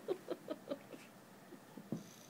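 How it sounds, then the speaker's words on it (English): A dog plays rough with a pillow indoors, giving a quick series of short, snuffly grunts and huffs, four close together and then a few more scattered bursts, fairly near and moderately loud. "He's a crazy dog."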